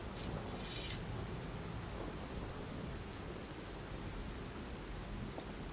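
Steady rain pours down on a night street in the video game Lies of P at Krat Central Station Plaza, a dense unbroken hiss with low rumbling thunder underneath, loud and continuous throughout.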